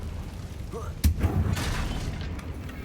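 A single sudden blast from the Confringo spell in Hogwarts Legacy booms once, close and punchy, then settles into a rumbling tail while a voice speaks.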